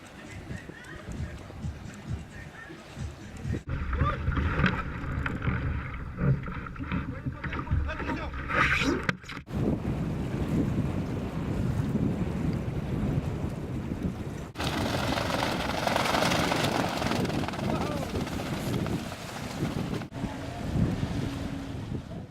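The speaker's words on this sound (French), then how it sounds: "le vent soufflait toujours aussi fort" Strong wind roars and buffets continuously across the scene on a trimaran on the Étang du Ter at Lorient, with water lapping against the boat and voices talking intermittently beneath the gusts.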